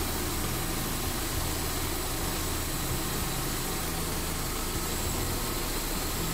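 1996 Toyota RAV4 with a 2.0-litre 3SFE engine running steadily at idle, a close, continuous mechanical drone with an even texture throughout, no talking.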